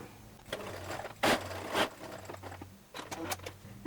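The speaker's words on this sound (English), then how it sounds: "I'm going to hand crank it down in there and then sew this gap shut" Sewing machine fitted with a zipper foot stitching a gap shut, giving short bursts of mechanical whirring and clatter close by, separated by brief pauses.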